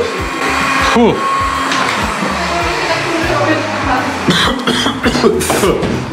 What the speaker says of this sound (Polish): A ten odkurzacz trochę bardziej na kurzy niż odkurzy chyba, co?